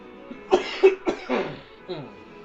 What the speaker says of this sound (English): I cough like this.